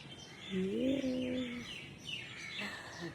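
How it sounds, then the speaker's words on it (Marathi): A sparrow chirps indoors or near a home, a couple of short, clear tweets followed by fainter calls against a quiet background. "चिव आली आहे"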